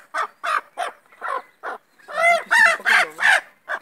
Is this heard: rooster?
yes